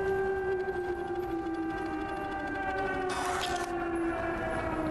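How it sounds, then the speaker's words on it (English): A long, wavering air raid siren wail in the video game Stray holds a steady pitch throughout, loud and sustained, with a brief burst of noise near the end. "Those are air raid sirens."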